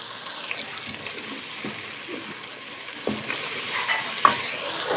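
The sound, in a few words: yogurt added and stirred into frying keema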